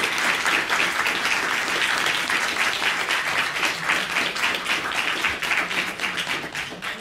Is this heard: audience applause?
yes